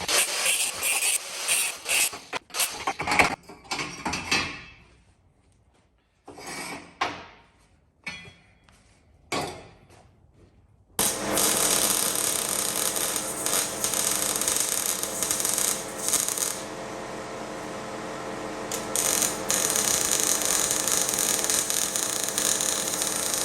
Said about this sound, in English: you probably can't hear me because the compressor's on